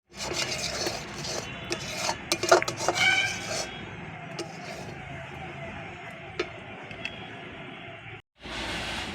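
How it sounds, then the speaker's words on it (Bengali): A spatula presses and breaks up lumps of puffed rice in a pan, making rough, close scraping and rubbing with scattered taps. The sound runs continuously, then briefly cuts out near the end before resuming. "খুন্তি দিয়ে চেপে চেপে ভেঙে দিতে হবে"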